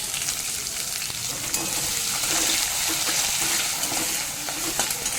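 Chopped onion sizzling in a pan with frying peanuts while cooking semolina pulao, a loud continuous crackle with occasional stirring scrapes close by.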